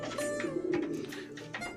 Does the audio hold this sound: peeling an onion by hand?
no